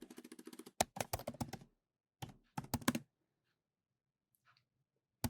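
Quick bursts of keyboard typing, rapid clicking keys in clusters with pauses between, close and fairly quiet, no voices.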